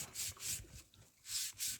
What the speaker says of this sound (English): So it needs a little brushing, huh?